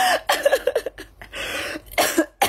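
A person coughs repeatedly in a series of harsh, close bursts with a throat-clearing quality, the fits coming in clusters over a couple of seconds.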